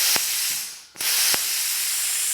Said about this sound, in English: You push this down and then it sparks and then blows compressed air through there